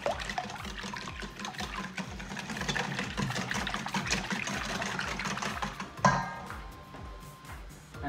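Cream, milk and eggs are whisked in a bowl for a quiche Lorraine, a steady, rapid scraping and tapping that stays busy throughout, with a sharper knock near the end.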